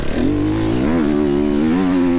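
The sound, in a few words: enduro motorcycle riding on a dusty track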